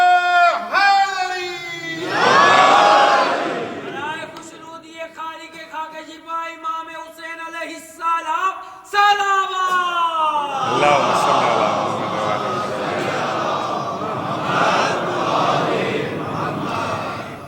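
Majlis congregation during a Muharram gathering shouting a slogan in unison after a lead voice calls it out, a loud massed response rising and sustained for several seconds, with a strong single voice leading before the crowd joins.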